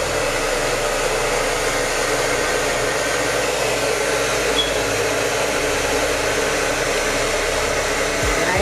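A hair dryer blows steadily on wig glue along a frontal lace, a loud, unbroken close-up whoosh of air that holds constant for the whole stretch before clicking off right at the end.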